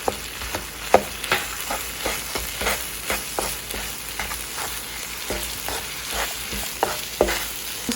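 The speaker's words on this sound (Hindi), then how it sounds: "जब आपका अदरक लहसुन थोड़ा सा भुन जाए" Ginger and garlic fry in oil for an orange chicken dish, giving a steady close sizzle broken by repeated sharp scrapes and clacks of a spoon stirring the pan.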